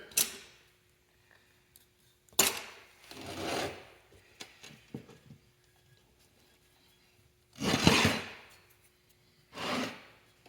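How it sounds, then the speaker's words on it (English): Parts of a John Deere 4410 front axle are wiped off during seal replacement, heard as several separate close rubbing and wiping strokes with quiet gaps between them, with no talking. "Kind of wiping things off here a little bit."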